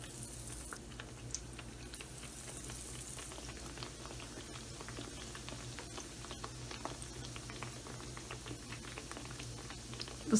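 Batwa sandwiches fry in oil, giving a faint, steady bubbling and crackling that runs on without pause. There is a single louder tap at the very end.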